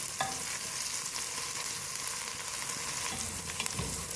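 Garlic, ginger and onion sizzle steadily in hot oil while cooking an aloo baingan (potato and eggplant) dish, with occasional stirring scrapes of a spoon against the pan.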